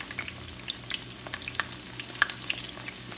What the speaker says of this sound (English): Flip them all over so they can be coated.